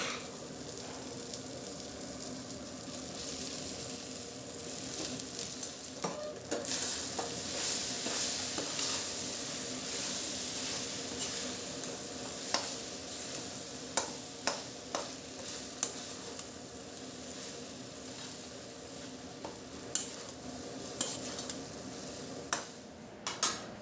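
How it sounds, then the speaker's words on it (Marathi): Daliya upma stirred and sautéed in a pan, with a steady soft sizzle under scraping spoon strokes and occasional sharper clinks against the pan near the end. "छान 5 मिनिट हा उपमा व्यवस्थित परतून घ्यायचा आहे."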